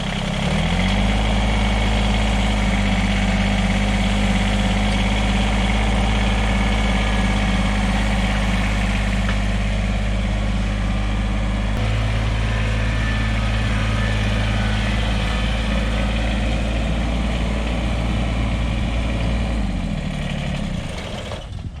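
A John Deere 1-Series compact tractor's small diesel engine idles steadily for a long stretch, a low even chugging hum with slight vibration, close by and without voices.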